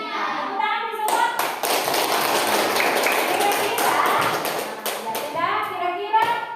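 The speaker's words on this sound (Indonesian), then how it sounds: "Tepuk tangan semua." Schoolchildren applaud together in a classroom, a dense run of hand claps lasting several seconds, close and lively, with a teacher's voice before and after and children's voices around it.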